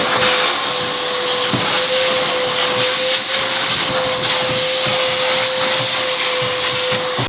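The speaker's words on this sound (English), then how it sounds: "we also have our nice new shop vac" A shop vac roars steadily at close range inside the stripped interior of a Honda EG hatchback, a constant whooshing drone with a thin whine riding on top and small bumps as the nozzle moves.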